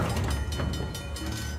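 A train in the video game Uncharted: The Lost Legacy rumbles and clatters continuously, with a rolling mechanical roar that sounds close and steady.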